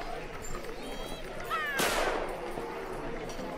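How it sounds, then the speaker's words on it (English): A single sharp gunshot cracks out mid-scene amid distant whooping and shouting voices, its echo trailing off behind faint background chatter. "Another gunshot randomly as someone yee-haws"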